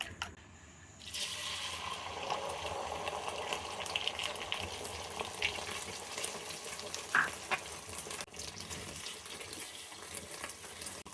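Egg frying in four spoons of oil seasoned with salt and a little turmeric, a steady loud sizzle and crackle filling the pan close up for about ten seconds, with a brief clatter near the start.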